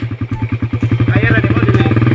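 A motorcycle engine putters close by with a rapid, even pulsing beat that grows slightly stronger, running alone without talk.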